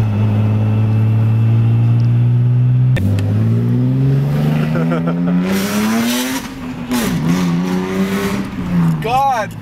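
A BMW E46 325ci engine drones then revs up through rising pulls, its exhaust loud and close, with people talking excitedly over it.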